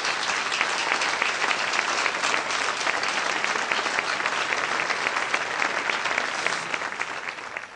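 An audience gives sustained, loud applause for a woman receiving a departmental merit award at a prize ceremony, with dense clapping throughout that eases slightly at the end.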